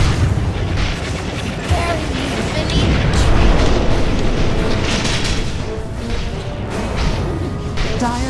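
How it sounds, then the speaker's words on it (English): Dire's middle tower collapses in Dota 2, with deep booming crashes and whooshing impacts layered over busy battle noise, while an announcer speaks over the sustained din. "Dire's middle tower has fallen."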